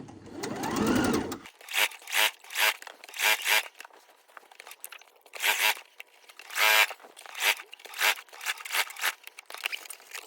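A sewing machine back stitching a straight seam, loud close bursts of rapid needle chatter in short repeated runs separated by brief pauses, following an initial crinkle of fabric handling.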